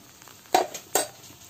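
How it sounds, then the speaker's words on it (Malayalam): Masala paste with a quarter teaspoon of turmeric powder sautéing in a pan for Kochi-style pork vindaloo, with a low sizzle broken by two sharp scraping strokes of a spoon against the pan. "മഞ്ഞൾപ്പൊടി കൂടി ഇട്ടിട്ട് ഒന്ന് വഴറ്റിയെടുക്കുക"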